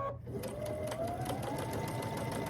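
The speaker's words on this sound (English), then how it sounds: "So I'm stitching one line across that side." A sewing machine chain-pieces quilt squares for a charm or scrappy quilt, stitching straight diagonal lines in a steady, continuous mechanical whir with a rapid needle rhythm, close and uninterrupted throughout.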